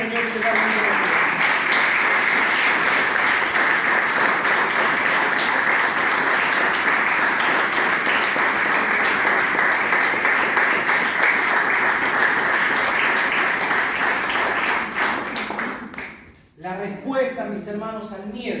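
A church congregation applauds in sustained, dense clapping for about fifteen seconds, then it fades and a voice begins speaking.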